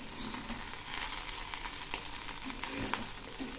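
Prawn pulao stirred in a pan with fried onions added, a soft continuous sizzle and frying hiss with faint scraping stir strokes throughout, fairly quiet and steady, with no voices.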